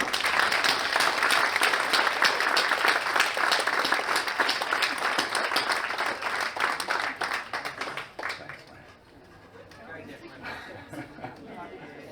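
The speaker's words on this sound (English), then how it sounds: "Round of applause for the CDOs." A conference audience claps in a sustained round of applause at a state conference wrap-up session, dense and loud before fading to scattered claps and murmuring chatter.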